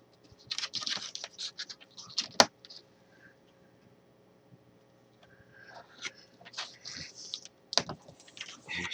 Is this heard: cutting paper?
yes